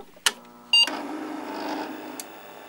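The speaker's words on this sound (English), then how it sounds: "the first step of that booting is called recalibration, where the head is driven against the stop and makes a grinding noise" A Franklin Ace 100 floppy drive recalibrating, its head driven against the stop with a quick click, a brief loud mechanical burst, then a softer grinding buzz and a final tick.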